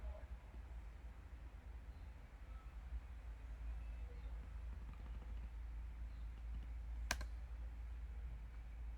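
Quiet keyboard typing at a computer terminal, with soft scattered key clicks under a steady low hum, one sharper click standing out near the end.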